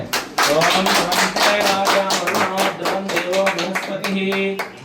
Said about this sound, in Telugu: ఒకసారి అందరూ చప్పట్లు కొడితే